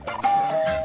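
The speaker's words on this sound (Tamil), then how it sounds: "காலிங் பெல் அடிக்குது" A short two-tone electronic chime rings once, clear and fairly close, with no voices.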